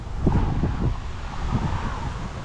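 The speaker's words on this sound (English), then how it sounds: "It's a little bit on the windy side, so hopefully everything's okay on the audio." Steady low rumbling wind buffeting the microphone outdoors at a farm consignment auction yard, with gusty thumps near the start, no speech.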